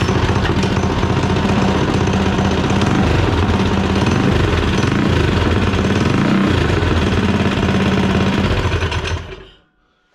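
A Coleman CT200U mini bike's small engine runs steadily and loudly up close with a rapid, buzzing chatter, then cuts off abruptly near the end, leaving silence; no voices.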